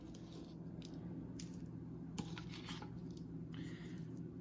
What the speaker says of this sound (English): We're gonna pour the seasoning in here and mix it up really good